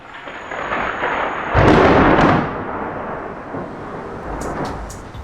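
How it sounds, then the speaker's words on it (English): Thunder after a lightning strike, heard outdoors as a loud rumbling crack that swells sharply and then rolls off into a fading low grumble, with faint rain-like hiss around it. "Oh, you guys see that lightning?"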